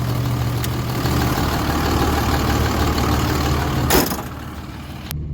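A power-only hotshot pickup with a 48RE transmission sits idling steadily and close, a low engine drone running unbroken, with a brief louder swell near the four-second mark and no talk.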